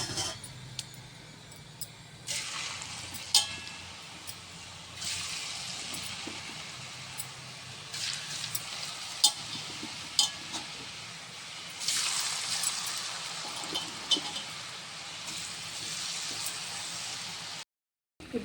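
Kurkura snack dough frying in hot oil over a low flame in a Telangana-style home kitchen, giving a steady hiss and sizzle with occasional clinks of a utensil against the pan, plus louder bursts of bubbling partway through.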